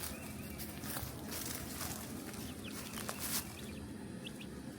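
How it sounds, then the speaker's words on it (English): Chicks in a wheeled brooder, soft high peeping calls scattered over a steady low background hum, fairly faint. "Here's our chicks."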